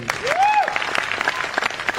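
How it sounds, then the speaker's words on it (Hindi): Audience applause breaks out at a Hindi motivational business event, a steady wash of clapping from a crowd with a voice rising over it briefly near the start. "एक बार जोरदार तालियां"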